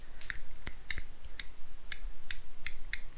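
Sharp, dry flicks against a hardened, dried-out poly suspension bush on a GTC resto-mod project, about eight quick clicks at an uneven rhythm, close and distinct with no talking.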